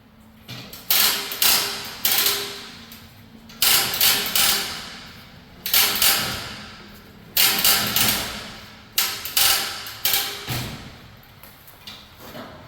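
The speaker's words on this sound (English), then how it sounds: "the air hammer is going to go into the center there, and I'm going to blast that through" Repeated bursts of a pneumatic air hammer rattling metal while driving a gear out of a Ford 8.8 differential, several loud hammering runs separated by short pauses, close up.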